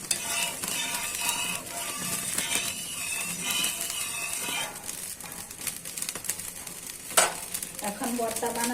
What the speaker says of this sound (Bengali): এখন ভর্তা বানানোর জন্য কাঁচা মরিচটা তেলে ভেজে নিচ্ছি